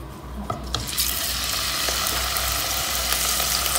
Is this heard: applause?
no